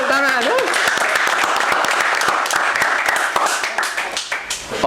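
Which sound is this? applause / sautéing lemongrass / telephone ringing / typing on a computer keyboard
applause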